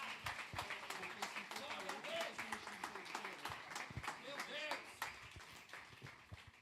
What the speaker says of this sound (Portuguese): Receba o servo de Deus mais uma vez com palmas.